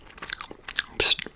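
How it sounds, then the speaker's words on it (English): Two pieces of Trident Tropical Twist gum are chewed close to the mic in soft irregular wet clicks and crunches, with a louder burst near the end and no clear speech. "Just more of a chewing noise, louder chewing noise."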